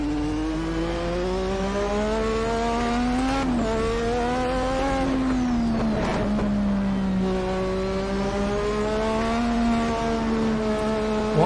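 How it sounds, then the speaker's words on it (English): A Formula 1 car engine in the Assetto Corsa racing game, lapping the Nürburgring Nordschleife, screams at high revs and bounces repeatedly off the rev limiter, loud and continuous with brief shifts in pitch and tire noise. "You just hear it bounce off the limiter."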